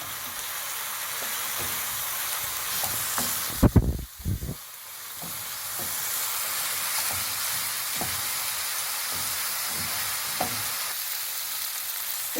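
Steady sizzling of chopped onion and garlic sautéing in a pan, a continuous hiss with a brief clatter of stirring partway through.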